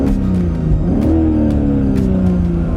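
BMW M340i Touring engine and exhaust in Sport Plus mode, a steady loud drone with a rev that rises and settles, heard close with no talking.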